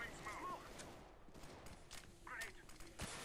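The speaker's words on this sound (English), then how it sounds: "He's just shooting completely at random." Scattered gunshots and short bursts of fire in CS:GO on the Dust2 map. The shots are quiet and distant, spread at irregular intervals, with a few louder cracks near the end.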